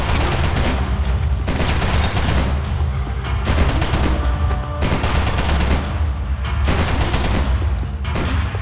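Dense gunfire in the shooter game Max Payne 3, with rapid overlapping bursts of automatic shots and booming impacts, loud and nearly continuous with brief lulls, no voices.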